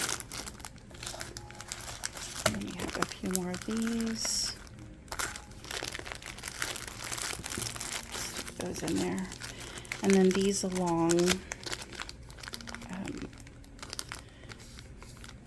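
Packing paper crinkles and rustles in bursts close by while a person talks over the handling.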